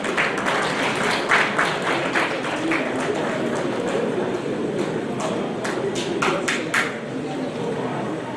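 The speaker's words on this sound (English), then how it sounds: "Now to clap for yourself because I'm calling you distinguished new fellows." A conference audience claps for newly named fellows, a long, even patter of applause from a large hall with voices murmuring underneath.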